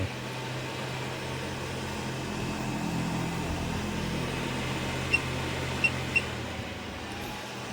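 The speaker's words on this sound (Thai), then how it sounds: "พัดลมก็ หมุนปกติทั้งสองตัวไม่มีปัญหาใด" Two cooling fans of a Sunchonglic 1000VA grid-tie inverter run with a steady broadband whir and low hum, close and continuous, with a few faint high ticks near the end.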